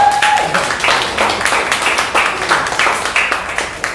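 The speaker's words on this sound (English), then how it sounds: "Clap it up for that." A comedy show crowd claps loudly and continuously, producing a dense patter of hands that pulses slightly in waves without letting up.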